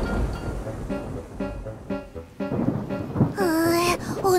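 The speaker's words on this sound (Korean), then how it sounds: "어이쿠! 번개가 치잖아!" Cartoon thunderstorm effects play: rain hisses under rumbling thunder, joined by repeated tonal beeps and a rising sweeping tone near the end.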